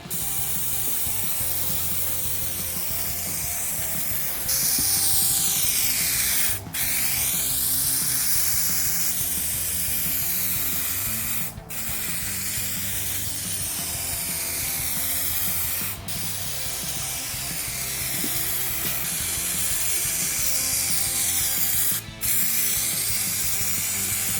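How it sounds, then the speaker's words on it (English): Spray gun hissing steadily while paint is blended along the bed sides of an old pickup truck, a continuous loud airy spray broken by four brief pauses between passes. "Now for the bed sides, watch how I blend the paint."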